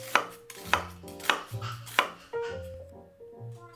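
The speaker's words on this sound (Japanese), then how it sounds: "玉ねぎも細かくカットする。" Finely chopping onion with a kitchen knife during breakfast preparation at home: five sharp, evenly spaced blade strikes on a cutting board, close and clear, followed by quieter scraping and handling sounds.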